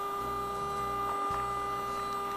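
AquaPlanet Supa Pump Elite electric inflation pump running in its low-power mode, a steady, even mechanical hum with a constant tonal whine and no talking.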